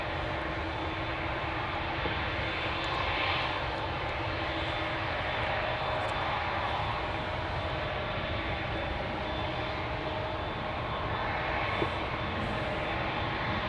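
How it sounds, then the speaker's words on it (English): A KLM airliner departs Schiphol Airport in Amsterdam, bound for Budapest; a steady, loud jet engine roar fills the scene throughout with no break. "The PHBXG lined up here. Going to Budapest."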